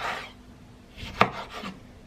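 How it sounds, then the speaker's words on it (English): A kitchen knife chopping lettuce on a board, a few soft rasping cuts with one sharper, louder chop in the middle, close and otherwise quiet. "I'm just going to chop up some lettuce."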